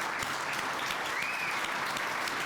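A crowd at a building and construction industry awards ceremony breaks into sustained applause for an outstanding graduating apprentice, steady and close, with a brief faint whistle-like tone partway through.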